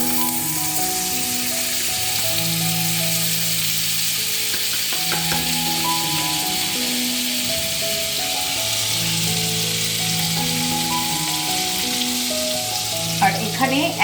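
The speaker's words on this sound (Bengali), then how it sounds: "অয়েল আমি 1 চামচে দেবো, তার সঙ্গে বাটার দিয়ে দেবো।" Butter and oil sizzling in a pan while cooking pasta, a steady close hiss with faint stirring clatter and no talk.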